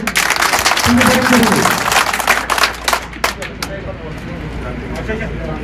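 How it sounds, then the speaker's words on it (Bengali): Clapping from an audience at an Awami League gathering honouring Mofazzal Hossain Chowdhury Maya, a burst of close applause amid crowd babble that thins into scattered claps and fades out, with speech over it. "আমরা আরেকটি করতালি দিয়ে"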